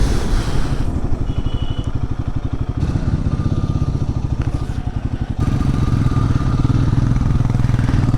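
Motorcycle engine riding along a narrow single-lane hill road, a loud, steady, throbbing rumble close to the rider with wind noise and slight shifts in pitch, no talking.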